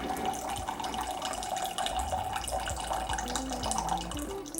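Hot water streams steadily from an RCD100HCG water dispenser, a continuous close pour with no talking.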